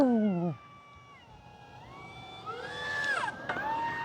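Propeller of a Tecnam light aircraft as the throttle is pulled back, a warbling, whining engine tone that sweeps downward, rises again and wavers in rising and falling whistles, heard close inside the cabin.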